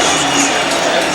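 A crowd of about 73,000 at a Cleveland Browns NFL game in the football stadium roars and cheers continuously, a loud, dense wash of voices with no break.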